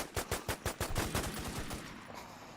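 Rapid bursts of automatic gunfire from the WarZ Survival video game, a quick series of sharp shots at first that blur into a denser, fading rattle.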